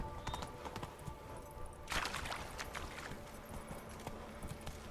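Roach, the horse in The Witcher 3, walks with steady clip-clopping hooves amid game ambience, a brief louder rustle partway through.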